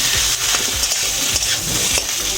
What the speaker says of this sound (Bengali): লঙ্কার গুঁড়ো দিয়ে দিলাম, মিশিয়ে নিচ্ছি।